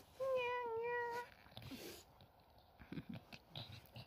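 A small cat gives one clear, drawn-out meow close by, followed by quieter shuffling and faint handling sounds.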